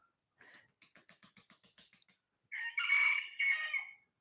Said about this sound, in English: He's crowing.